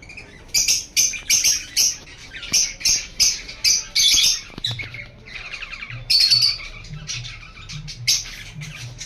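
Pet lovebirds fighting, with loud, rapid squawks and shrill chirps bursting in quick succession close by, then a lower churring undertone as the scuffle continues.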